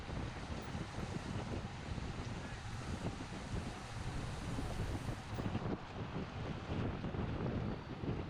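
Strong wind buffeting a microphone on a bike during a criterium race, a loud, constant roaring rush that fills the entire stretch with no voices.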